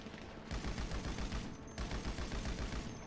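Heavy-weapon gunfire in GTA 5 Online, rapid bursts of loud shots in two volleys separated by brief pauses, close and dominant.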